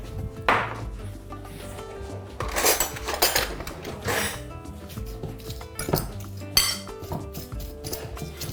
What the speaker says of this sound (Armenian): Քանդում ենք օղակները և տրորում։